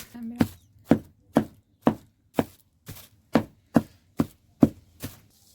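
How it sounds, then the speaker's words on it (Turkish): A cleaver pounds a bulgur köfte mixture on a board in about eleven sharp, evenly spaced thuds, close and loud with short gaps of silence between strikes. "biz satırla ezmeye devam ediyoruz"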